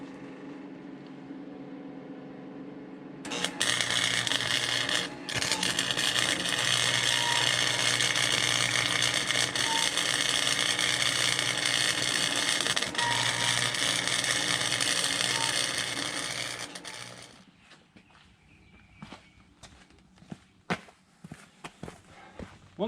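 A MIG welder running cheap stock wire lays a continuous loud crackling, buzzing arc for about thirteen seconds, then stops, leaving faint clicks and handling noises.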